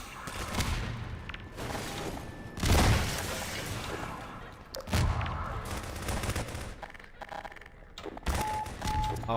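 Half-Life 2 firefight with repeated grenade explosions and rapid gunfire, loud and close, with heavy booms at intervals over continuous crackling shots and no talking.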